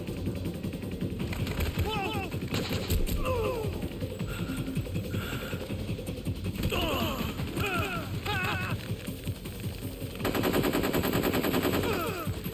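Rapid bursts of machine-gun fire from Metal Gear Solid 3: Snake Eater ring out nearly nonstop, loud and dense, with game voices talking over the shooting and a heavier sustained volley near the end.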